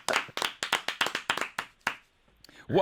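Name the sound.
applause for Macklemore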